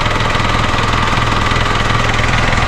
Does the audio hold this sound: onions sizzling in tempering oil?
no